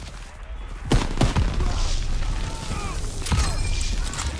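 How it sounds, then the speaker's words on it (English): Machine gun fire in Call of Duty: WWII on the D-Day beach, a few sharp bursts standing out over a dense, constant battle din of distant shooting and rumble, with no voices. "I'm kind of being shot at by MGs."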